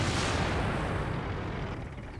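A World of Tanks cannon shot from the 121, a Tier 10 Chinese medium tank, penetrating enemy armour: one loud, broad blast that rolls off into a fading rumble over about two seconds.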